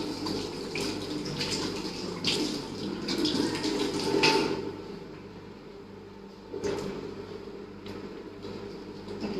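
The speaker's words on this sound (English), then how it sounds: "So before we start, I'm going to be washing my hand." Hands being washed under a running kitchen tap, steady close water splashing with a few louder gushes, then a quieter stretch and a brief knock near the end.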